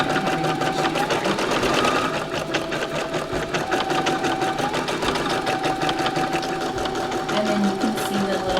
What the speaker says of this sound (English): And now it will just continue to embroider your design.